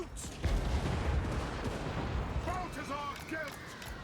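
Soldiers in Total War Warhammer 2 fire a massed volley, a heavy rolling boom of musketry that fades into a lingering rumble, with faint battlefield shouts and cries later on.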